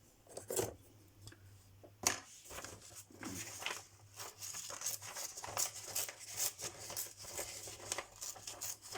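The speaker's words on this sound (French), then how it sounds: "je vais découper comme ça" Scissors snip through paper while cutting out a woman's portrait, crisp cuts and faint crinkles repeating irregularly up close, with a low steady hum running beneath.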